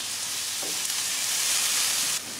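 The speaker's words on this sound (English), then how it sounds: "Now we put the tomatoes." Tomatoes hitting hot oil in a paella pan for paella Valenciana: a loud, steady hiss and sizzle that swells after they go in, then cuts down abruptly near the end.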